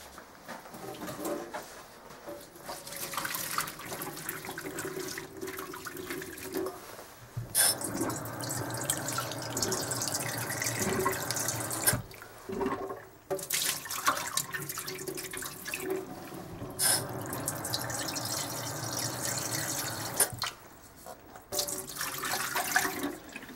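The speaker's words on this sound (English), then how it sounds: "I am going to drain this and rinse it with 2-3 times cold water." Cold tap water runs steadily into a sink to rinse drained tofu, a continuous splashing stream with brief pauses and changes in flow as the rinse is repeated.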